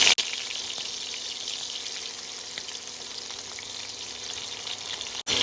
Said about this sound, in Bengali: এবার সমস্ত মাছগুলোকে এক এক করে ভেজে তুলে নেব